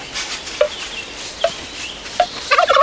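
Turkey gobbling in a 1995 Slovak fairy-tale film: several short gobbling calls at spaced intervals, then a denser, louder burst of gobbles at the end, heard alone with no speech.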